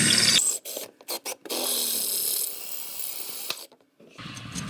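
A power drill grinds a bolt out of a planter wheel in loud mechanical bursts, first short stuttering pulses and then a sustained whir before cutting off, with a brief rattle after.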